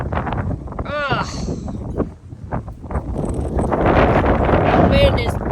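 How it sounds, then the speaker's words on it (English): Strong winter wind in bitter Missouri cold buffets the microphone in rough, gusty rumbles, with voices and small chirping sounds in between and the blast building louder toward the end. "That wind is brutal. Can you hear it?"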